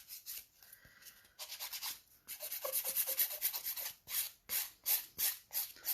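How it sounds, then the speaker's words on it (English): Acrylic nail tips are filed with a 180 grit file in short, rhythmic scratchy strokes, close and fairly faint, with brief pauses between bursts of rubbing. "I find it always fiddly filing tips like this."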